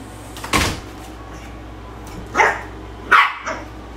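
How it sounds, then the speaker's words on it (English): A dog barks a few times in short, sharp bursts separated by pauses, fairly close, with a faint thud in the background. "She's still barking."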